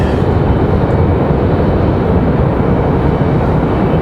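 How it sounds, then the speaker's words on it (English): An American Airlines Boeing 737-800 departs from Raleigh-Durham International, its jet engines producing a loud, steady broadband roar that holds constant from start to finish, with no speech over it. "American Airlines 1916. That was a 737-800."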